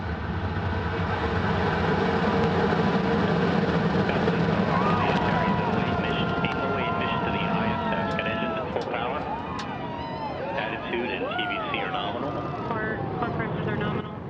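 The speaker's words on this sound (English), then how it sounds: "And we have ignition." An Orbital ATK Antares rocket ignites and lifts off on a cargo launch to the space station, a broad, distant rumbling roar that swells and persists while voices talk over it.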